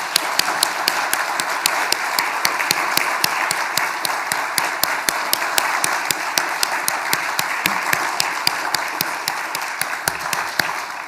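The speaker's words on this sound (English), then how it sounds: "Our 4 exceptional nominees to stand again. Big round of applause." An audience at the 2021 New South Wales Australian of the Year Awards ceremony claps in sustained applause, a dense run of sharp hand claps that holds steady and loud throughout.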